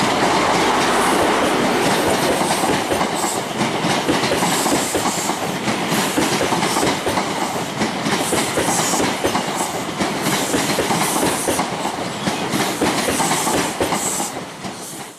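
A model Virgin-liveried HST train runs steadily along a layout track, with continuous rattling and clickety-clack of wheels, close by and unbroken for the whole stretch.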